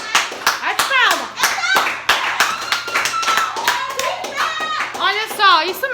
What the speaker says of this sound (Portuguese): Bate palma!